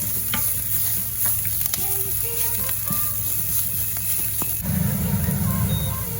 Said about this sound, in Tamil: போட்டு அதை கிளறி விட்டுட்டு அடுப்பை கொஞ்சம் மிதமான சூட்டில் குறைச்சி விடுவோம்